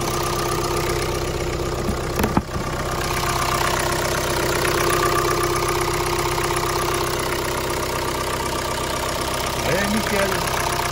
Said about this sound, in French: Regarde, le moteur à Pierrot.